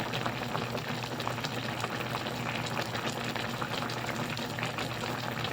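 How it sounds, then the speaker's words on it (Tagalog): Water bubbles at a rolling boil in a pot, a close, continuous hiss and crackle with no talking. "Kumukulo na."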